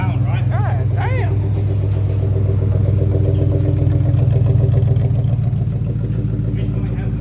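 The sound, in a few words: car engine and exhaust after new catalytic converter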